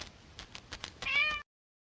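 A striped cat gives a few soft, short mews, then one louder, drawn-out meow that cuts off abruptly into silence.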